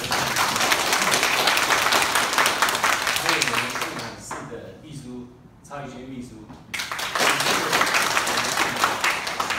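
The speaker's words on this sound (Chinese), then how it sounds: "大家掌声。" Audience applause fills a handover ceremony: steady clapping, then someone speaks through a pause before a second round of clapping rises again.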